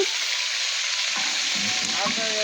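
Roast cooking in a large pan at a rooftop picnic, a loud, dense continuous sizzle close by, with faint voices in the background.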